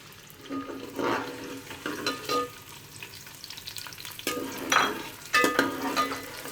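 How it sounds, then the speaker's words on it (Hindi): Chopped onions sizzle in hot oil in a home kitchen pan, a steady frying hiss broken by several louder bursts of stirring and scraping, close and without talk. "ऑयल थोड़ा गर्म होता है तो इसमें मैं प्याज ऐड करूँगी"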